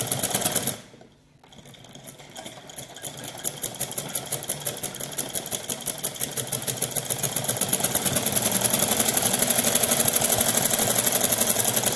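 A sewing machine stitches a frilled loose trouser hem, running in a steady rapid mechanical rhythm that halts briefly near the start, then resumes and holds a fast, even chatter close by for the rest of the clip.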